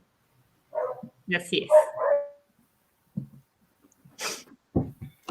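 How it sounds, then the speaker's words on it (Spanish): Small pet dogs bark in short bursts during an indoor conversation, with yips and a snort, fairly close, while people talk between the barks. "perdón por mis perritos"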